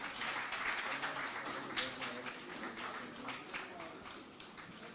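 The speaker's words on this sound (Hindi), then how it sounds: "जोरदार तालियां बजा दीजिए प्लीज।" Audience applause at an education awards ceremony as honourees come on stage, a dense wash of clapping filling the hall steadily for the full stretch, fairly faint and with some voices mixed in.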